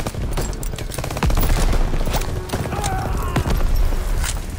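Dense bursts of rapid machine gun fire crackle continuously in the video game Call of Duty WWII's D-Day mission, with sharp individual shots among a busy, noisy mix.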